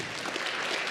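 A crowd claps continuously at a VRC robotics tournament in Benzie, Michigan, a dense, steady wash of applause filling the room throughout.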